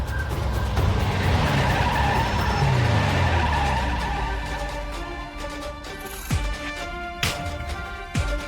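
A car skids hard during reckless, rash driving, a long loud tire screech sweeping down in pitch over several seconds, then fading into engine noise with a few sharp knocks and bumps near the end.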